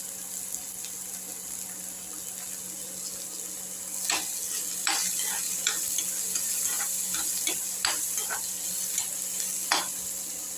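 Steady sizzling in a hot pan as finely chopped plantain is stir-fried, with intermittent scraping clatters of a spatula stirring, growing busier after a few seconds; no voices.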